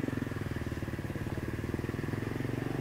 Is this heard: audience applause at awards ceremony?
no